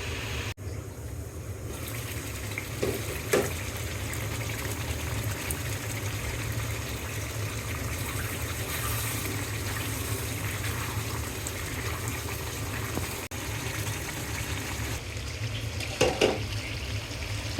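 Water poured into a pan of beef liver and new winter potato curry, a steady watery trickle and splash running throughout at moderate level, close by with no talking.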